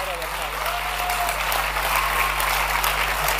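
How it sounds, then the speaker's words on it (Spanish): Church audience applauding at a Sunday service as guests are called up, a steady dense clapping held throughout at a fairly loud level, with a voice talking over it. "Fuerte el aplauso, fuerte el aplauso."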